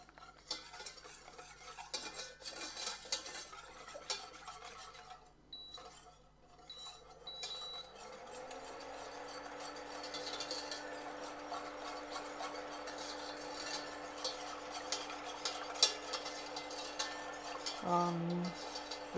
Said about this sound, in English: Low fire, stirring constantly, because you don't want these to get stuck to your